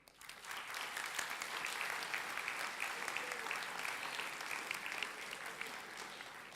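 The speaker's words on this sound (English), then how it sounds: "A big applause for you." Sustained applause from a large audience at a women-in-tech gathering during a Huawei Connect evening event in Paris, dense steady clapping throughout with no voices on top.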